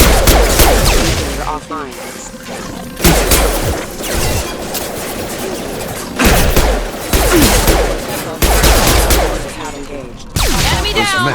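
Rapid bursts of gunfire and impact crashes from a firefight against hostile mechs at the Freedom's Progress colony in the video game Mass Effect 2, loud and close, coming in several clustered volleys with brief gaps, mixed with voices talking throughout.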